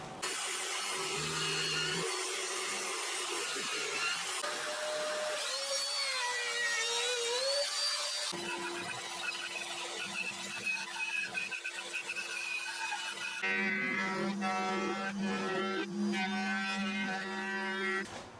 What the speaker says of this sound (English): now I can take this over to the pillar drill